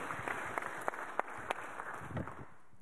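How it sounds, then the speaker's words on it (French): A small audience applauds at a reception for a regional trade-skills finalist team, quiet scattered clapping with a few sharper claps standing out, fairly faint and without talk. "On vous applaudit"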